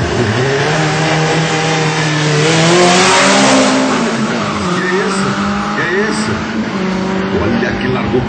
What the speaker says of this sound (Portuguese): Olha que largou bem o Vertovan.